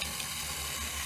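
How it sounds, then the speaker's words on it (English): A garden hose with a spray attachment, running on house water, rinses a tray of radish microgreens, making a steady close hiss of water spray with no breaks. "using house water here with the garden spray attachment hose onto the hose. And just rinsing the dickens out of this."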